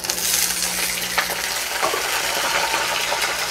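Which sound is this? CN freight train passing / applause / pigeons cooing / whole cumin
whole cumin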